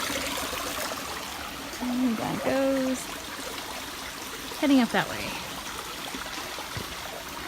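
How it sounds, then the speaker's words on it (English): A small creek beside a forest trail trickles and babbles softly and steadily in the background while someone speaks two short phrases over it. "That's a little creek."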